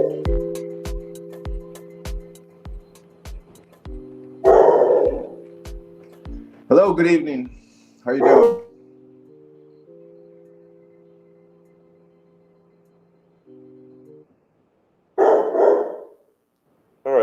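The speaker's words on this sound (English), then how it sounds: "forgive the dog" A dog barks repeatedly at close range in quick bursts, then stops, while people greet each other in conversation over a steady background hum.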